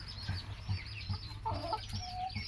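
Hens clucking in short repeated bursts close by, one sitting on a nest to lay an egg, with a steady low hum and some rustling in the background.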